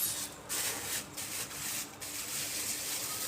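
A freezer bag of green beans is folded to press out the air, giving soft rustling plastic rubs in several short bursts, close and quiet.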